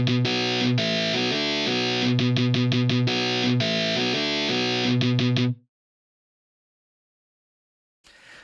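Heavily distorted electric guitar plays a chugging riff of sustained chords and quick stabs, then cuts off abruptly into silence.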